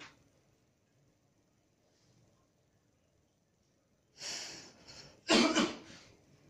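After several seconds of near silence, someone coughs nearby, first a muffled cough, then a harder, louder one.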